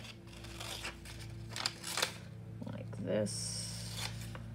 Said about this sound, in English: So I'm gonna cut that bit off.